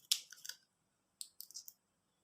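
Scissors snip through a recycled plastic straw in two quick bursts of sharp, close clicking cuts separated by a short pause, with no voices.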